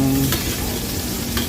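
Onion and ginger sauté in a pan for chicken tinola, a dense close sizzle with a couple of brief utensil scrapes, steady and fairly loud with no voices.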